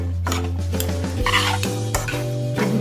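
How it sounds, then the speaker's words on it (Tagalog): A spoon clinks and scrapes against a bowl while pork skin kilawin is mixed with vinegar, with close rhythmic stirring knocks over a steady low background hum. "Halo-haloin lang po natin ito guys."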